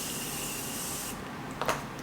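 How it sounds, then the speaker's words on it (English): A Morphe setting spray mists onto a face in one sustained, soft hiss lasting about a second, close to the mic, followed by a faint click and a brief rustle. "I just sprayed some Morphe setting spray on my face"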